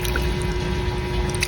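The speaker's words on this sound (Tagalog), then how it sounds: "Tapos lalagyan ko rin ng tubig." Water pours steadily into a pot of paksiw na bangus, a continuous splashing trickle heard up close, with no talk over it.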